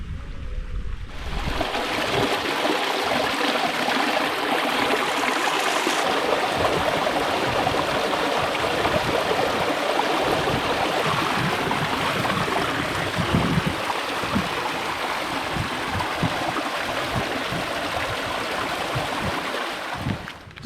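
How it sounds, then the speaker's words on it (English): A creek in the Northern Ontario woods pours into a lake, a loud, steady rush of flowing water that continues without a break. "here's that creek that drains into the lake I'm on."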